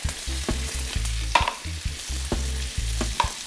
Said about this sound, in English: Drop the onions in.